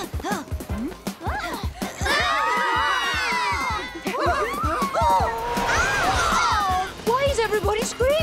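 Cartoon crowd of children and adults shrieking, shouting and laughing in a busy outdoor scene, loud and continuous with overlapping excited voices throughout.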